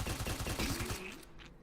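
Assault rifle firing in the survival boomer shooter Desolation, a quick automatic burst of about ten evenly spaced shots that ends after a second and fades out.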